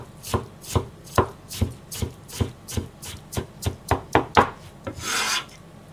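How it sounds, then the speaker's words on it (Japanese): A kitchen knife minces fresh ginger on a cutting board in a steady run of about a dozen sharp, close chops, ending with a brief scraping sweep across the board, with no talking. "で生姜もみじん切って"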